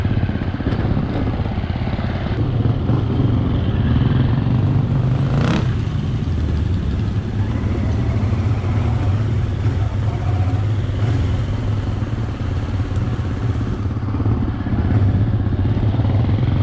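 A motorcycle ridden at night over muddy terrain: a continuous engine drone with rattles and bumps over it and one sharp clatter, steady and fairly loud from start to end.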